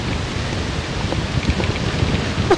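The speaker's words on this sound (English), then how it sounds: "holy moly, this wind is strong now." Strong, gusty wind buffets across an open golf course in roughly 25 mph conditions, a steady broadband roar with rougher rising surges, close and loud, with no voices.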